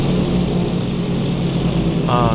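A Grumman F4F Wildcat fighter's propeller engine drones steadily in a flight video game, a loud close hum with a brief higher whine near the end.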